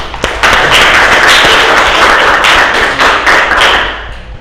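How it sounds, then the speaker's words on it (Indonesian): A class claps together during an arts lesson on percussion instruments, a loud, dense burst of hand clapping that swells quickly, holds for several seconds and tapers at the end. "Tepuk tangan"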